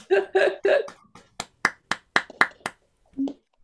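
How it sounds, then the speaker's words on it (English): A few separate, sharp hand claps from participants unmuted at an online poetry reading, coming one after another with gaps between them, mixed with brief voices and a small laugh. "give Helen Ivory and the most fabulous applause"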